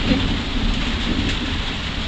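Heavy rain pours steadily as a dense, continuous wash of noise at an even loudness, with no voices and no breaks.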